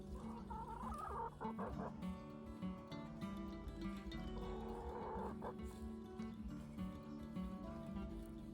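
Chickens clucking inside a backyard coop, a busy chorus of overlapping clucks and low throaty calls that goes on without a break under steady farmyard background noise.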